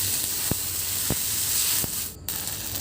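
Elephant apple slices sizzle steadily in hot oil with sugar, turmeric and salt, a constant frying hiss with a few soft clicks and a brief dip in the middle.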